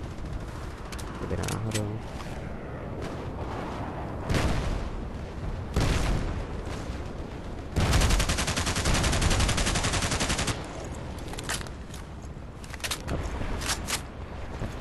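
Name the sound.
gunfire in video game Battlefield Play4Free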